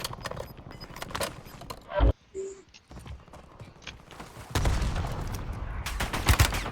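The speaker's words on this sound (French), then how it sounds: "J'essuie des tirs" Call of Duty gunfire crackles in scattered bursts and single shots, with sharp transients spread through the clip and a dense, louder stretch of firing near the end, set against game ambience.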